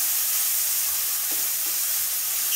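Hot oil sizzles steadily with salt in a frying pan after tomatoes go in, a continuous close crackling hiss with no talk.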